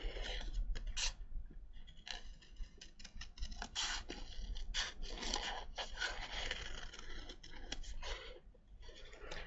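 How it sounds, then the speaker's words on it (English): Scissors snip paper in a craft session with quick, irregular cuts and scraping close by. The snips come in bursts with short pauses between them, and no one speaks. "I'm just going to cut this out."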